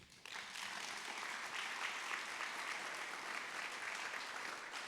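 Sustained applause from a crowd at a documentary screening, steady and full, rising quickly at the start and continuing without a break.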